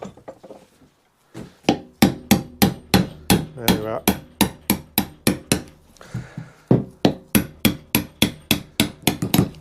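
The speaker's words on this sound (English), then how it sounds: "I have to get an hammer for that one." A hammer drives a metal-sleeved suspension bush into an Iveco Daily van's rear suspension, a long run of sharp, loud, evenly spaced close blows with a brief pause early on and a few spoken words.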